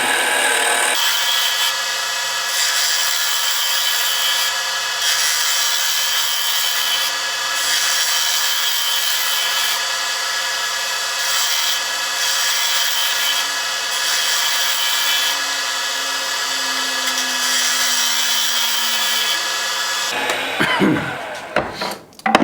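A steady whirring lathe hums loudly as a tool's outer edge scrapes a spinning bog oak pen blank, then the motor winds down near the end.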